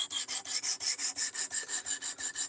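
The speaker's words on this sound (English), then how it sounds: "we can sharpen knives and go back in on them when we're done" A knife is drawn repeatedly across a sharpener in a steady, quick rhythm of about five or six rasping strokes per second, close and fairly loud, with no voices.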